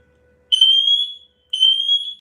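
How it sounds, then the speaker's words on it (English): Smoke alarm going off indoors, two loud piercing electronic beeps, each lasting about three-quarters of a second with a short silent gap between, close and alone. "I'll put it on pause when the alarm goes off."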